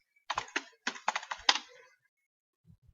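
Quick bursts of keystrokes on a computer keyboard as a web address is entered, close and fairly quiet, in two short clusters followed by a couple of faint taps.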